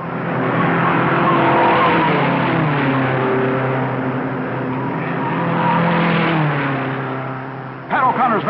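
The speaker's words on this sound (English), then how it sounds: "Pat O'Connor's number 12 roars away from the pole position to the lead." At the 1957 US Grand Prix start, a field of race cars led by Pat O'Connor's number 12 from pole roars away in a loud, sustained engine blare, with a brief tire screech near the end.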